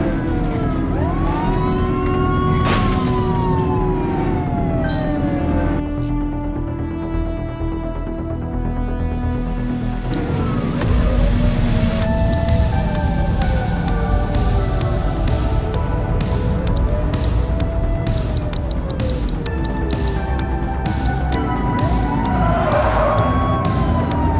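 A police car siren wails continuously through a pursuit in the video game The Precinct, loud and close with rising and falling sweeps, layered over engine and road noise.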